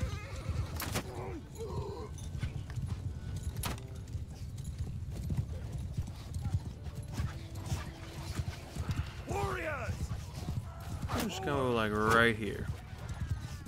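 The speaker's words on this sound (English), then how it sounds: "Try not to get run over by all these mounts." Horse hooves clip-clop steadily from mounted cavalry units in a medieval battle in the video game Mount & Blade II: Bannerlord, with a horse whinnying near the end, all under continuous talking.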